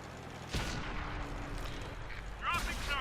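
A T-29 tank's main gun fires in a tank battle game on a mountain pass map, one heavy boom landing early followed by a rumbling tail, then a second sharp impact near the end.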